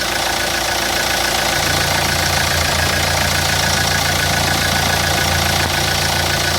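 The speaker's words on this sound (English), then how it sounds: "Let's check the engine. Alright, as you can see here, the engine sounds smooth." Hyundai Porter truck engine idling with the engine lid open, a loud, steady mechanical drone with a regular knocking rhythm, heard close and alone without any talk.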